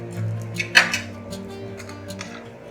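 A potato pancake being flipped in a frying pan with a metal utensil: a few sharp clinks and scrapes of metal on the pan, one louder clatter, then a quieter sizzle and a couple of light taps.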